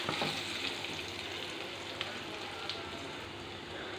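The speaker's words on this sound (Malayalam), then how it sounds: "കുറച്ച് മഞ്ഞൾപ്പൊടി കുറച്ച് മുളക് പൊടി നല്ലപോലെ ഇളക്കി കൊടുക്കാം" Turmeric and chili powder are stirred in a hot frying pan, giving a steady soft sizzle with faint scraping touches throughout, close and moderately quiet.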